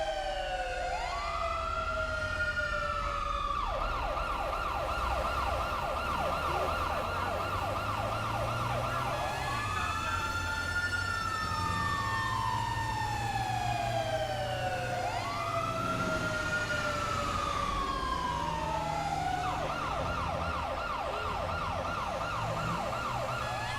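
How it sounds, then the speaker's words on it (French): Emergency vehicle sirens in GTA roleplay wail loud and continuous, alternating between long rising-and-falling sweeps and rapid yelping bursts, with a low engine rumble beneath. "Je pense que ça vous fait pas chier les sirènes"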